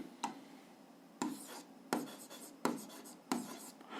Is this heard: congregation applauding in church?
no